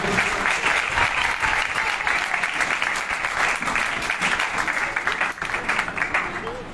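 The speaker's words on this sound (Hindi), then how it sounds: "जोरदार तालियों में" Loud, dense applause from a large crowd at a Christian worship event in Lahore, sustained and steady throughout, with a slight dip near the end.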